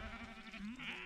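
Sheep in a field give a single drawn-out, wavering bleat, close and clear against faint outdoor background, with no talking.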